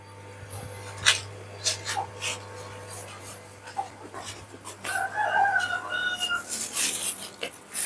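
Chickens cluck and a rooster crows in a rural yard, several short scattered calls and squawks over a low steady hum, fairly close, with a longer crow near the end.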